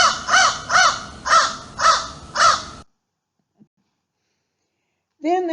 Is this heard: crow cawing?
yes